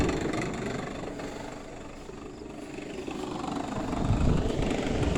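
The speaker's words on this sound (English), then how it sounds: "Or the compressor just came on." An air conditioner compressor kicks on with a steady, low mechanical hum and broadband whoosh, continuous and fairly close, swelling slightly toward the end.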